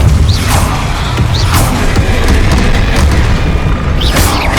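Confringo blasting curse explosions in Hogwarts Legacy, loud repeated booms and crashes in a dense, continuous roar of combat effects.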